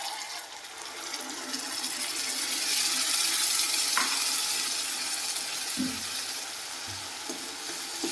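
A paste of tomato, onion, garlic, ginger, coriander and green chilli fries in a pan over a low flame. A steady, close sizzle hisses throughout, with a few soft knocks of stirring.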